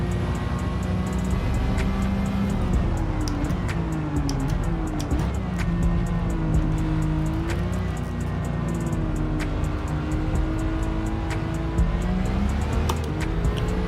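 Nissan GT-R racing in Gran Turismo 7, its engine droning steadily with rising and falling revs through gear changes, alongside other race cars and occasional tire squeal, loud and continuous with no talk.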